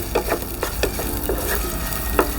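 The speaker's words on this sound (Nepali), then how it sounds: "प्याजलाई पनि हल्का फ्राई गरौँ" Onions lightly frying in a pan for a mixed greens saag, with a steady close sizzle and a series of regular spatula scrapes and taps against the pan, moderately loud with no voices.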